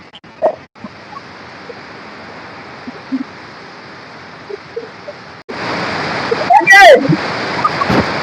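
A waterfall at a nature picnic spot, with water rushing hard over slippery rocks at its base. A steady, dense roar of spray fills the whole stretch and swells noticeably louder partway through.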